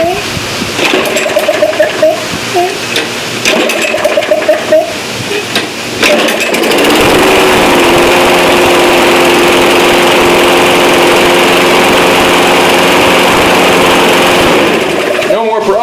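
A Toro lawn mower engine sputters through a few brief attempts to catch after carburetor jet cleaning, then starts and settles into a loud, steady running drone, with a person talking during the early attempts.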